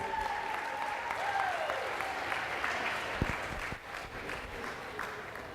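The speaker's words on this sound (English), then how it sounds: "Can we give these girls a big round of applause," An audience at a school sports banquet applauds steadily for a group of girls receiving awards, a dense roomful of clapping that holds at an even level throughout, with a brief tonal sweep early on and faint background voices.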